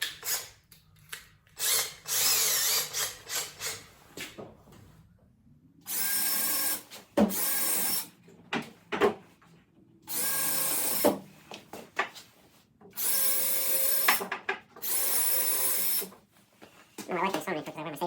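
Power drill boring into wood scraps while a nesting box is built outdoors, in several loud, sustained bursts of a few seconds each with pauses between, alongside short handling noises and brief talk.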